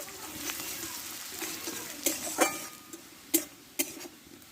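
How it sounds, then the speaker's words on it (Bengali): An onion frying in oil in a village kitchen, heard as a soft continuous sizzle punctuated by several sharp utensil clinks and stirring scrapes. "পেঁয়াজটা ভালোভাবে একটু লালচে করে ভেজে নেব"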